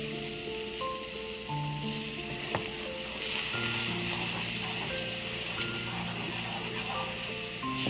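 Paneer butter masala base frying in a pan with milk over low to medium heat gives a steady, close sizzle, with soft stirring scrapes and a few clinks throughout.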